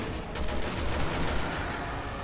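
Sustained rapid gunfire from a full magazine being emptied in Resident Evil 4, dense continuous bursts filling the whole moment, loud and close with no talk over it.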